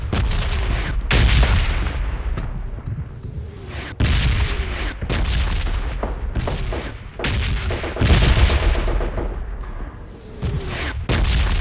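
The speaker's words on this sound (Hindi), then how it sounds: "यहाँ पे मुझे कुछ गन साउंड आ रहे थे" Gunfire in a battle royale video game: repeated loud shots and booming blasts in irregular bursts, some close and sharp, others echoing, with no talk over them.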